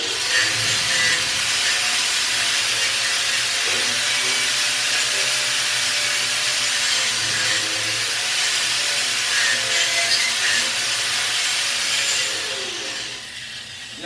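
Steady crackling hiss of a vertical-up weld being run on a plate, loud and continuous for most of the span before easing off near the end, with no talking.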